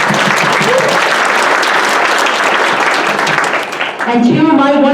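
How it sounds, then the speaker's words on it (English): Loud, full applause from an audience at a high school debate banquet, dense clapping that fades near the end as a voice begins speaking. "Let's give him a round of applause."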